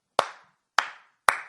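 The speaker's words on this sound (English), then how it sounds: "I had to give him a little applause break there" Three sharp, isolated hand claps ring out about half a second apart, close and crisp, each dying away quickly into silence during a comedy podcast.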